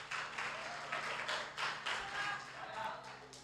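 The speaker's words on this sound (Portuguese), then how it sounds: "Vamos lá, dê salva de palmas para a Camila, gente." A church congregation applauding at a New Year's service, a sustained patter of many hands clapping in a large room, moderately faint with rhythmic swells.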